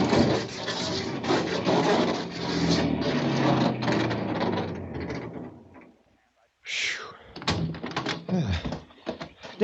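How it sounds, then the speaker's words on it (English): Radio-drama sound effect of a car scraping along a hillside: a long, loud grinding and rumbling scrape under tense voices, a brief silence, then more rough scraping with voices. "scrape the side of the hill on the left. Go in easy. That'll slow us down."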